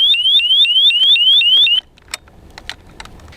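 An ABUS 7000 RS1 alarmed disc lock sounds a loud rising electronic alarm, chirping in a rapid repeating pattern for under two seconds, then stops, leaving faint clicks and handling noises.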